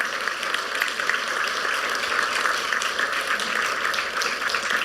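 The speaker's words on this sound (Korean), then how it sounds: "여러분 박수로 여러분 귀한 분들 격려해 주시기를 바랍니다." A church congregation applauds during a Sunday service, a dense, steady wash of clapping that holds at an even level from start to finish without pause.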